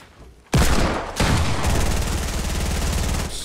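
Fortnite battle royale gunfire: a sudden loud burst of shots, then a second volley running into sustained rapid automatic fire that continues for about two seconds, close and dominant with no talk.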